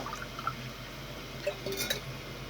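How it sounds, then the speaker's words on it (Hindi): Water poured from a cup into a pot while making Kashmiri pink tea, a soft liquid pour with small splashes and drips, fairly quiet against a steady background hum. "ये देखें ये वाला कप का पानी फिर ऐड कर दिया"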